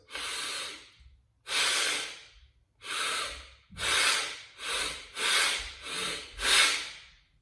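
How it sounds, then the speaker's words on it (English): Eight forceful breaths pushed out through the nose in a steady rhythm, each a loud, close, airy rush lasting well under a second, separated by short quiet gaps, with no talking. "try to force the breath out through the nose"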